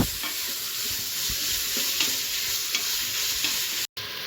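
Carrots and green peas are stirred in a pan under a steady close sizzle, with soft scrapes and taps from the spoon at irregular intervals and no speech.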